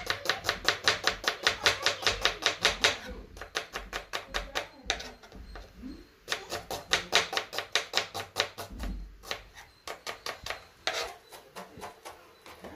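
A knife chops onions on a cutting board for chicken biryani, striking in rapid, evenly spaced bursts. Brief pauses break up the quick, crisp rhythm.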